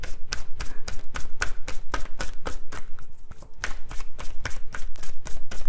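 Oracle cards being shuffled from the whole deck: a steady, fast run of crisp, close slapping riffles, loud and rhythmic, with one brief slower patch midway.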